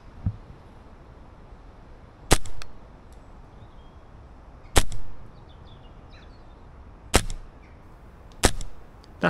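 A Novritsch SSQ22 airsoft rifle fires four sharp, evenly spaced shots, each a crisp snap with a short tail, heard outdoors over a faint background with occasional distant birds.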